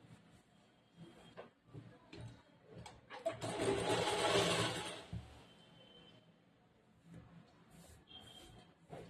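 A sewing machine stitches the joining seam of a chudidar top, a close mechanical whirr that builds in short bursts and then runs steadily for a couple of seconds before settling into quieter intermittent handling.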